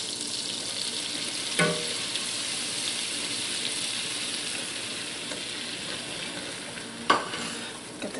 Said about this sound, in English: Now I'm going to start mixing in my flour.